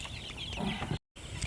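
Chickens in a coop give soft, low clucks and murmurs close by, with a brief drop to silence near the end before the clucking carries on.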